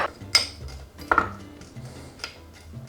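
A utensil clinks against a dish while a soy sauce mixture is stirred, a few sharp separate taps and scrapes, close and fairly quiet, with no talking.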